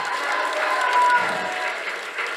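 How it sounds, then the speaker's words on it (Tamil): Audience applause at a Tamil film event honoring an actor, a steady burst of clapping lasting a couple of seconds with crowd noise and some voices mixed in. "உங்கள் கைத்தட்டல்கள் உற்சாகம்."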